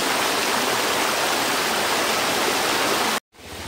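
Floodwater in a residential yard in Malappuram rushes in a dense, continuous wash that carries a coconut away, loud and steady before cutting out abruptly near the end.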